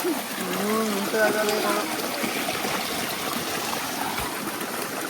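A small forest stream in the Malenadu hills flows with a continuous close gurgle and trickle; a brief voice sounds faintly over the water near the start.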